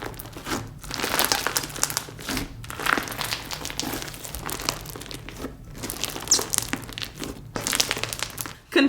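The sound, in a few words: crunchy slime with confetti being squished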